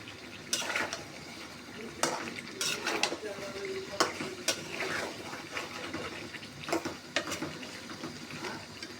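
Goat meat being stirred in a pot during bhuna cooking, with repeated scraping and clinking of a spoon against the metal over a soft sizzle, the strokes coming in irregular bursts.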